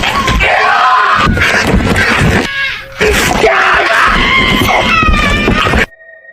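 A person screams in a horror film scene where a man douses himself in gasoline, with loud, strained, sustained cries that run almost without pause, dip briefly in the middle, then cut off abruptly into silence.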